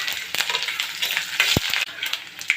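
Mustard seeds, cumin, garlic, dried red chilies and curry leaves sizzle as they temper in hot oil for a bottle gourd curry. The hiss is steady and close, with a few sharp crackles and knocks from stirring.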